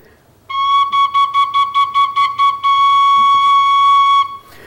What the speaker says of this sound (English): So the penny whistle is really, really popular.